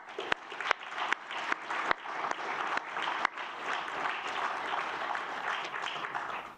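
An audience at a conference on European defence breaks into sustained, loud applause, dense clapping that holds steady throughout with a few sharper claps standing out.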